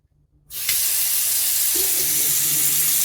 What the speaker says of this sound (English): The sink actually works